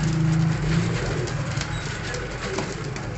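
Johnsiry pigeons coo softly in a loft in Faisalabad, repeated low throaty coos close by amid a faint background hum, with no talk.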